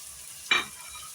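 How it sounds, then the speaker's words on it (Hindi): Spinach, coriander, chillies and eggplant are being stirred and fried in a masala for a black chickpea gravy, giving one short, bright sizzling scrape that flares up and fades within a moment over a quiet background. "और इनकी मज़ीद अच्छे से हम भुनाई कर लेंगे।"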